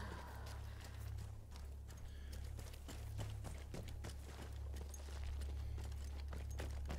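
Rapid clip-clop of horse hooves trotting along in the video game Battlefield 1, steady and continuous over a low constant hum.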